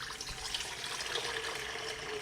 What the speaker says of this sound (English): the first thing that we're gonna do is we're gonna add in our water